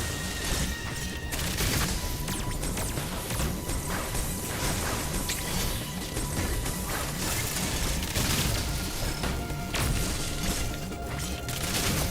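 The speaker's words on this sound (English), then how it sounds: "it's 5 missiles at once" Missiles fire five at once in the Metroid Dread video game, a dense, continuous barrage of crashing blasts and booms that stays loud throughout.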